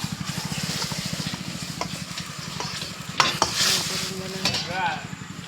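Manchurian cooking in a pan, with fast, rhythmic stirring strokes over a steady sizzle, followed by a few sharp metallic clanks of a utensil against the pan near the end.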